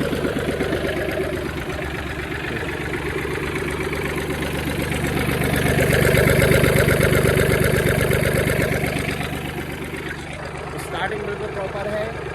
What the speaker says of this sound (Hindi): स्टार्टिंग बिल्कुल प्रॉपर है और कोई भी ब्लो बाय नहीं है इंजन को